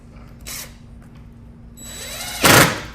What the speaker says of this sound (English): I'm just going to put 2 screws in